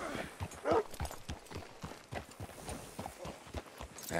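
Horse hooves clip-clop in Red Dead Redemption 2, a quiet, irregular series of hoof strikes on the ground as the horse walks, with faint ambient game sound around it.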